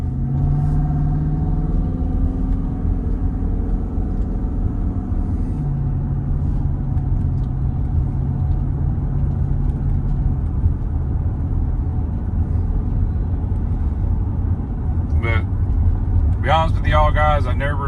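A 2011 Dodge Durango RT engine holds a steady, loud low drone at cruising speed, with continuous road rumble throughout and a brief voice near the end.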